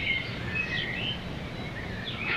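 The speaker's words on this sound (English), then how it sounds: "Making that noise? Oh, the pied wagtail." A pied wagtail calls faintly in a Bulgarian village garden, giving a few thin, high chirps scattered over a soft outdoor background.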